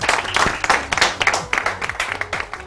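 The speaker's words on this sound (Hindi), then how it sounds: "एक भरपूर तालियां हो जाएंगी" An audience applauds four contestants at a talent show grand finale, loud close claps in a fast uneven rhythm with several sharp individual hits standing out from the crowd.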